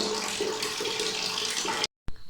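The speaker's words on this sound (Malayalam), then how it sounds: "വെള്ളം ഇങ്ങനെ ഒഴിച്ചുകൊണ്ടിരിക്കുകയാണ്" Water pours in a steady, close, rushing stream for a toy bath for Barbie dolls, then stops abruptly, followed by a brief click and a faint trickle.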